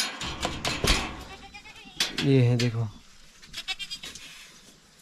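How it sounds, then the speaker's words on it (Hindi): Goats in a goat shed bleat once in a loud, wavering call, amid sharp knocks and clatter while someone talks nearby. "और यहाँ पर ये हैं हमारी बकरियाँ,"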